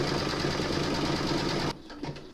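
A sewing machine stitching fabric for a liturgical bellpull runner, a close, steady high-speed motor whir with rapid needle chatter that stops abruptly, followed by a few faint clicks.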